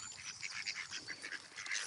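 Several ducks quack and chatter in a busy flock at feeding time, a steady run of nasal calls close by with no talking.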